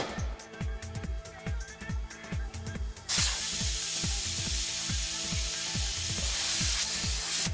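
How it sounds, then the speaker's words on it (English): Rhythmic mechanical thumping from a TW X-610 tyre changer gives way to a sudden loud, steady rush of air as its integrated tire inflator blasts into a tyre to seat the beads over the rim humps; the hiss continues to the end. "The beads can now be pushed over the humps of the rim with the integrated tire inflator."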